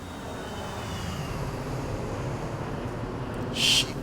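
Airliner jet engines in a flight simulator game, a steady broadband roar droning throughout with a brief brighter burst near the end.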